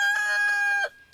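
A single rooster-style crow, a person imitating a cock-a-doodle-doo, rises and holds for under a second before cutting off, loud and close with no other sound around it.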